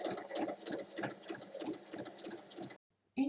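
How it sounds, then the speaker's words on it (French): A sewing machine stitches a fabric hem on a bag with a rhythmic, close, moderately loud whir that pulses steadily, then stops; a brief sound resumes after a short pause. "Alors je commence par piquer l'ourlet."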